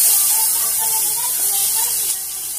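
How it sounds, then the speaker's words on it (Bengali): Diced potatoes and green banana fry in hot oil with cumin, giving a loud, steady hiss that eases off slightly near the end. "আলু আর কাঁচকলাগুলোকে দেওয়ার পর আমি একটু ভেজে নিচ্ছি"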